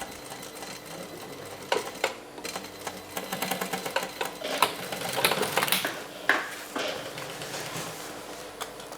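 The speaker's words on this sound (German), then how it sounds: "näht Petra an dieser Stelle einmal hin und wieder zurück" Industrial sewing machine stitching a denim jeans seam forward and then back, a rapid mechanical whirr in short bursts with brief pauses, close and fairly loud.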